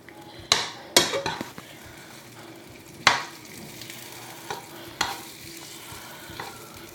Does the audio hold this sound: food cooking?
yes